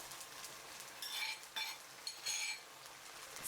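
Beef and gai lan are stir-fried in a pan, with a utensil scraping and clinking against the metal in uneven strokes over a soft, low sizzle, close and fairly quiet.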